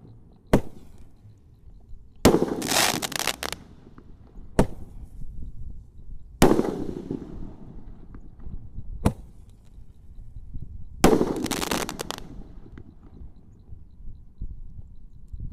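A large 1.9-inch Roman candle firework for New Year 2024 fires in repeated shots: sharp pops, several trailed by bursts of hissing, spaced a few seconds apart with faint background noise between.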